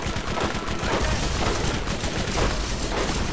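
Continuous rapid gunfire from the Anarchy shotgun-style weapon in the video game Borderlands, a dense, loud burst of shots with game noise throughout.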